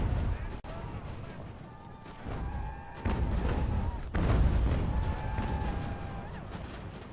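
Mortar fire booms across a battlefield in Ultimate General: American Revolution, with heavy thuds landing a few times among ongoing battle noise.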